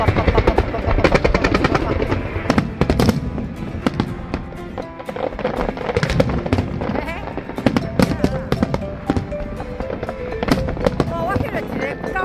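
High-altitude fireworks at Luermen go off in rapid, overlapping crackles and booms throughout. They are loud and close, with people talking underneath.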